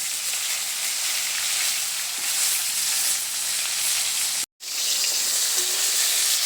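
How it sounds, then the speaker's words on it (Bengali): Cauliflower florets seasoned with salt and turmeric fry in a pan with a steady, close, bright sizzle that holds at one level, cut by a brief silent gap near the end. "এবারে আমি ফুলকপিগুলো ভেজে নেব।"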